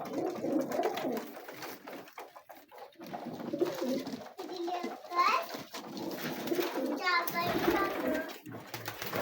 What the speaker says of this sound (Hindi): ये मैं रसगर वाले उस्ताद में रसगर वाले टैडी कबूतर हैं